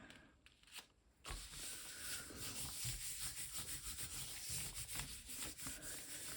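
Steady rubbing and brushing as a leaf is pressed down onto a gelli printing plate, a continuous close scuffing texture after a brief quieter start, with no talking.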